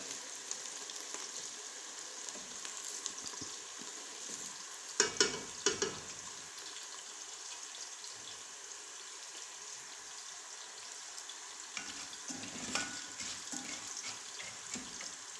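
Onions frying toward brown for chicken haleem, a faint low sizzle with soft stirring and a few louder clinks and bursts around the middle and later on, quiet overall and free of speech.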